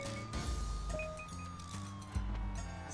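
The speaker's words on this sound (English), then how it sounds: "And we still got the sirens as well." Police sirens wail in a city level of the PlayStation video game A Bug's Life, a rising and falling tone running under game music.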